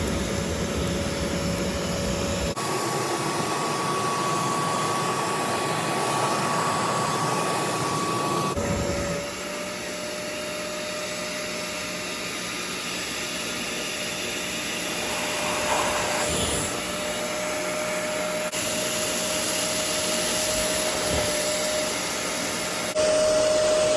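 A Bissell Little Green Machine portable cleaner runs with a steady motor whine and airy suction roar while drawing dirt from fabric, its pitch shifting as the nozzle drags across the material, close and continuous.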